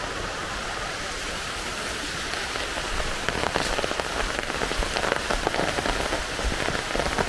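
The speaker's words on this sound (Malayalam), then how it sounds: "നല്ല മഴയാണ്. കൊച്ചു വരാറായപ്പോൾ നല്ല മഴ." Heavy rain pours steadily over a home at Enthayar in Kerala, a dense, continuous hiss that swells slightly louder in the second half, with no voices.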